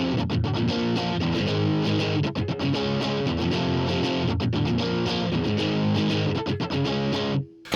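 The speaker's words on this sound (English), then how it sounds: "I'll kick on my distortion, my Noble's Overdrive Special." Electric guitar played through a Noble's Overdrive Special distortion pedal, thick distorted power chords strummed in a steady driving rhythm, loud and sustained, then cut off abruptly at the end.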